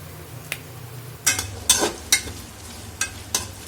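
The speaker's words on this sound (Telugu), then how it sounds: "2 పచ్చిమిర్చి మధ్యలోకి విరిచేసేద్దాం." Two green chilies snapped by hand over a pot of goat tripe and drumstick curry: several sharp, close cracks spaced unevenly across a few seconds, above a low, steady kitchen background.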